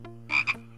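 A frog in the Simon the Sorcerer video game gives two quick raspy croaks, loud and close, over a steady hum of game music.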